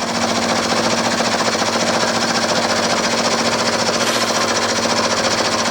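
Milling cutter machining a cast steam chest cover for a Stuart S50 model steam engine, a steady close grinding chatter with a rapid rhythmic knock, continuous and loud with no talk.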